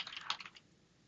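Quick bursts of typing on a computer keyboard, a rapid cluster of light key clicks that thins out after about half a second, close and alone.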